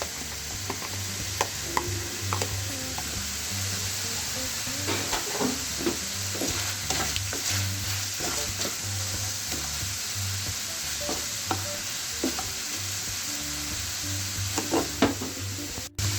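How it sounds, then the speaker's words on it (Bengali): Chopped onions fry with chicken in a pan for chicken burgers, making a constant close sizzle with repeated scraping and clinking stirs of a spatula over a low background hum. "চিকেনটা ভাজা হয়েছে, এখন আমি যে পেঁয়াজ কেটেছি সেই পেঁয়াজগুলো দিয়ে দেব।"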